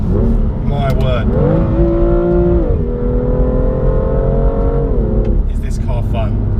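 A 2017 BMW M2 engine revs and accelerates loudly, its tone climbing through rising pitches, dipping and building again, while a person talks over the roar.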